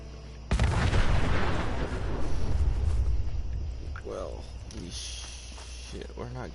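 A large explosion in Fallout 4 lands as a sudden loud boom with a long rumbling, crackling tail that fades over several seconds, followed by scattered game sounds.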